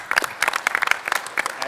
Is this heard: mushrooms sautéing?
no